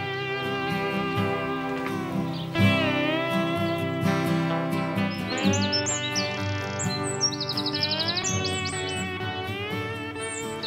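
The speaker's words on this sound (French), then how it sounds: "Ce troglodyte chante à plein poumon." A wren sings loudly in spring, a long rapid run of bright trills and chirps that rises into fast high notes, close and clear with no voices.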